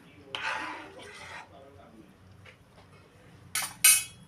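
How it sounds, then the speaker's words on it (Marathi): A spoon scrapes and clinks in a pot of salted jeera rice during stirring for rajma chawal, with a couple of soft scraping passes and then sharper clinks near the end, while a voice talks quietly. "मीठ घालून थोडं हलवायचं"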